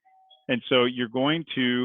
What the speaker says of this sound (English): I apologize for the doorbell